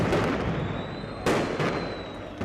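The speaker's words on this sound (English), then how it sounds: "And then volley after volley of gas." Riot police fire tear gas volleys at protesters in a city square, loud close bursts and pops over a dense, noisy crowd background, with one sharp blast standing out midway.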